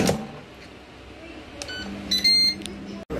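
An air fryer being set for rice and stew gives a few short electronic beeps close by, a quiet cluster of tones among low kitchen background noise.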